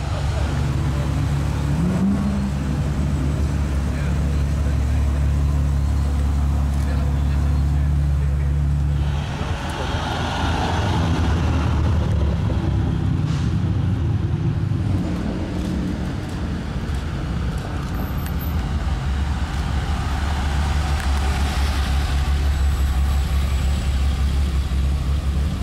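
A BMW M4 GTS sports car idles with a deep rumbling engine on a street during Monaco's Top Marques event, with occasional revs and passing traffic. People talk over it at times.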